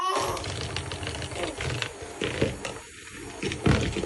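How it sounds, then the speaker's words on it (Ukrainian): Electric mixer at medium speed beating butter-based cream cheese frosting for a cake, a faint whirring and clattering hum, with someone speaking over it. "І тепер міксером. Починаємо на середніх."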